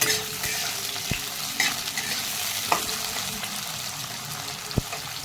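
Radish and potato pieces frying in a pan for a fish curry, a steady, fairly loud sizzle with stirring and a few sharp spatula knocks scattered throughout, no talk.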